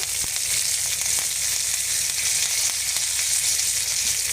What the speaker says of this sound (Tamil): இப்போ கடுகு பொரிஞ்சிடுச்சு